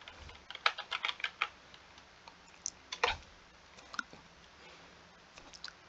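Typing on a computer keyboard to enter an encryption key into a Python program, heard as quick irregular bursts of close, crisp key clicks with short pauses between them.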